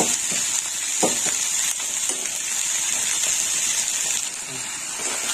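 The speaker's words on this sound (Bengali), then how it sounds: "এবার হলুদটা একটু ভাজা হোক" Turmeric frying in a pan for a vegetarian shukto, a steady close hiss of hot oil with a few light stirring knocks and scrapes, no talking heard.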